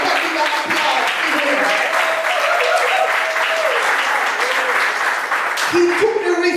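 A crowd at a church graduation applauds steadily and loudly, with dense clapping filling the whole stretch and voices cheering over it.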